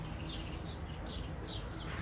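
Birds chirping outdoors around a patio, with several short high calls rising over a steady low background rumble, fairly faint and somewhat distant.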